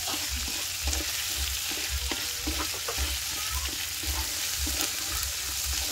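Eel frying in garlic fat in a pan gives off a loud, continuous sizzle, broken by regular thumps and scrapes of stirring.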